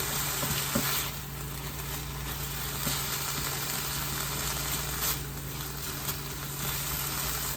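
Spinach for a breakfast wrap fries in a pan with a constant loud crackling sizzle, a few soft stirring knocks and a low steady hum underneath, no voices.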